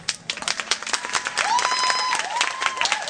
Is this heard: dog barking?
no